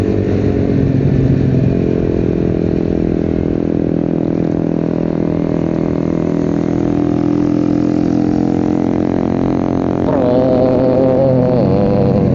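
A Yamaha Avantiz motorcycle engine hums steadily while riding, a loud continuous drone with wind noise and a brief rise in revs near the end.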